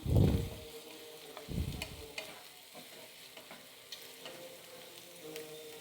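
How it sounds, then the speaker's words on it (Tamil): Onions sauté in a pan for a dried anchovy thokku, a continuous crackling sizzle with two louder bursts of stirring near the start and light spoon scrapes throughout, with no voices. "வெங்காயத்தை நல்லா வதக்கிக்கணும்"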